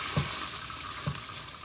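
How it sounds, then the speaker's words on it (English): Liquid poured from a sound sample pack, a close watery trickle with two soft glugging pulses about a second apart, on its own. "Some liquids being poured."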